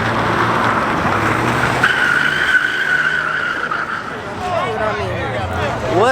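A car slides and skids in a GTA video game, tires squealing in a steady, loud smear that lasts most of the moment, with engine noise and talk mixed in.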